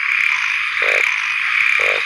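Frogs croak out in the open during heavy rain at night, a steady loud rain hiss with two short rasping croak calls, one near the middle and one near the end, close by.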